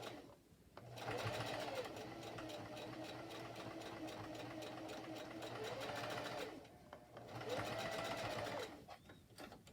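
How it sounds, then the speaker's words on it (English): A sewing machine stitches fabric in two loud, steady bursts of rapid needle chatter and motor hum, separated by a brief pause, heard close up with no other sound. "stitch this nicely. And I'm going to expand my width a little bit and just keep pushing"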